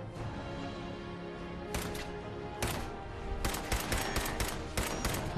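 Fallout 4 combat with a railway rifle firing spikes amid ongoing fire, sharp loud cracks landing singly and in quick clusters over a steady background of gunfire.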